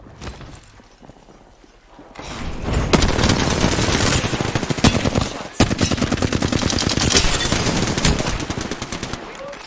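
Rapid bursts of R99 submachine gun fire in a battle royale video game, loud and sustained over several seconds after a quieter opening, with brief gaps between volleys.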